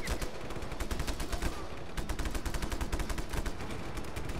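Rapid bursts of automatic gunfire from the video game Just Cause 3, loud and continuous with sharp repeated shots in quick rhythm and a brief gap midway.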